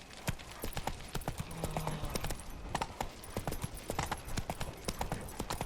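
A horse gallops in The Witcher 3, its hooves giving a quick, rhythmic clip-clop that runs steadily throughout, fairly faint, with a brief neigh-like tone partway through.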